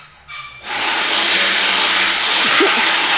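A corded, non-brushless Makita power tool spins up with a short rising whine, then runs at a loud, steady high-pitched drone in a garage during work on a Lamborghini, close and continuous.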